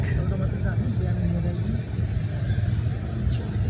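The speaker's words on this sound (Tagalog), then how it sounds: "Ay, traffic." Congested street traffic in Nepal, with cars and motorcycles idling and creeping in a jam; a continuous low engine rumble fills the scene as people talk over it.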